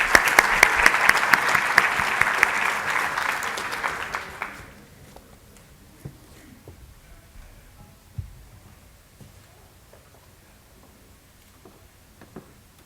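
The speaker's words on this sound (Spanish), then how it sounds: "Vamos a darle un fuerte aplauso" Loud audience applause at a cybersecurity conference talk for about four seconds, then fading to quiet room tone with a few faint thumps.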